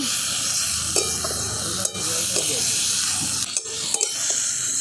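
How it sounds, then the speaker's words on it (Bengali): Vegetables sizzle loudly as they are sautéed in a pan for gadal leaf curry, a steady frying hiss broken by a few sharp scrapes and clinks of stirring. "দেখুন সবজিগুলো খুব ভালো করে কষিয়ে নিয়েছি"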